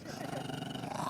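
A happy-looking collie-mix dog out on a countryside walk lets out a brief, low, rumbling growl, close and fairly quiet.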